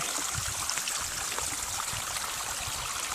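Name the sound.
water flowing from a seasonal mountain spring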